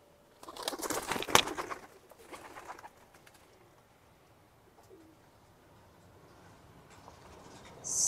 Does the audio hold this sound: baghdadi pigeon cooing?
yes